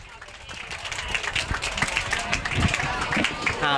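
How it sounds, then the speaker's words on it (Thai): An audience of scouts applauds an elderly speaker at a solar energy session, the clapping building from quiet to loud and staying dense with crowd murmur and voices underneath. "ปรบมือให้คุณลุงพงษ์ครับ"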